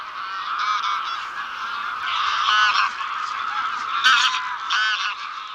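Large flock of wild geese flying over wetlands on migration toward wintering grounds, many overlapping honks and calls in a dense, continuous chorus, fairly close and loud with no talking.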